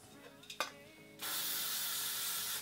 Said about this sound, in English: Putting hairspray on.